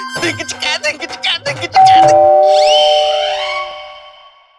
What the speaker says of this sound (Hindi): नो, ये घंटी हमारे लिए बजी है।